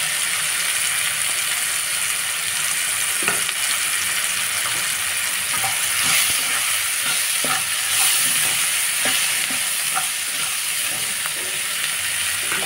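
Chili powder sizzling steadily in hot oil in a pan, with occasional scraping clicks of a spoon stirring, loud and close and continuous throughout, no voices.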